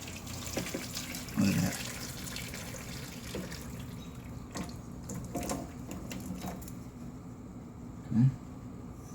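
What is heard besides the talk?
hot liquid poured over braised short ribs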